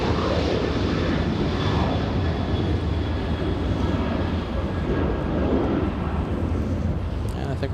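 Jet airliner engines roaring at Los Angeles International Airport, a loud steady broadband rumble that holds throughout, heard from a distance with no voices.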